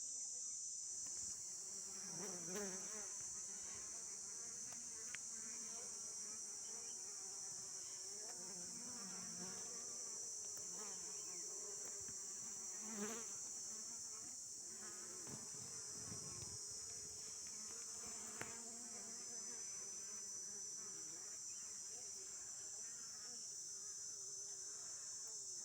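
Wild honeybees swarm around a hive wedged among rocks, giving a steady, dense buzzing drone that holds throughout, with individual insects passing close now and then.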